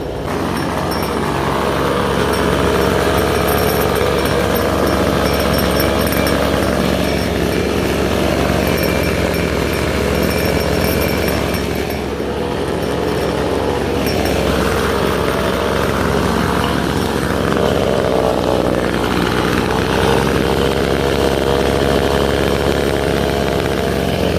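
Two small two-stroke engines idle together, running on a 1000:1 fuel mix, a steady continuous buzzing drone that stays loud and even throughout with no talking.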